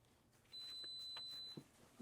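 An induction cooktop gives one long, high-pitched electronic beep of about a second at a metal object on it, fairly quiet against a faint background.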